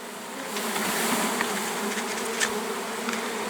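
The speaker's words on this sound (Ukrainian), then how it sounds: "Поки один рій у відрі, інші, інші напевно, нехай летять." A swarm of bees held in a bucket buzzes in a dense, continuous drone, close and moderately loud, with individual insects flitting in and out.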